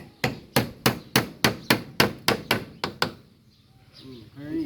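Nails being hammered, about ten loud, evenly spaced blows in quick succession close by, then a quiet pause with faint background sounds.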